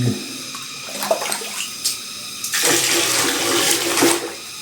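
A campsite toilet in Tagaytay flushes weakly, a rush of water running steadily for a few seconds after some faint knocks and drips, heard close in a small restroom with no talking.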